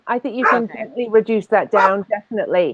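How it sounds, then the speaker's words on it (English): Dogs bark and yip in the background indoors while a person talks continuously over them. "sorry about the dogs"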